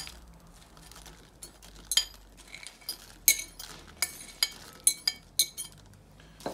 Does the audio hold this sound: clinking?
yes